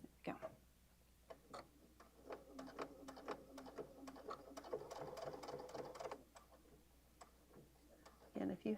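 A sewing machine stitching a messenger bag, its rapid ticking needle strokes running in quick bursts at close range, with a person talking quietly beside it.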